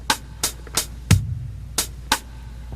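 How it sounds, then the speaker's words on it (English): A drum machine plays a relaxed jazz swing pattern, the triplet's middle note dropped so the clicks fall long-short, with one deep bass-drum hit near the middle, close and clear over a soft hum. "Now the jazz feel is we take away the middle note, or we tie it to the first one."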